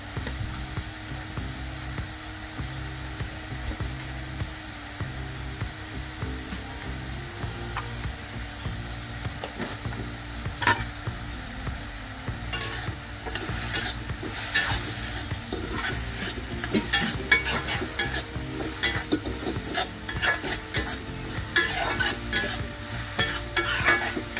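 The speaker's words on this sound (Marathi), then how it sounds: "सुकट छान तेलामध्ये भाजून घ्यायची" Dried shrimps roast in oil with red chilli powder, giving a steady sizzle under repeated scraping and stirring against the pan. The stirring grows busier and louder toward the end, heard close with no talking.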